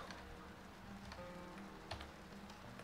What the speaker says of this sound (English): I can still hear it raining outside